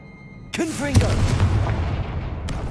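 A Confringo blasting spell in Hogwarts Legacy fires with a sharp crack and a booming blast, followed by a rumbling, echoing tail; a voice shouts the spell just before.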